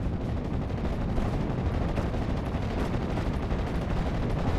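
A Cromwell tank fires in the World War II strategy game Steel Division 44, amid dense, continuous battlefield gunfire and rumbling explosions that stay loud throughout.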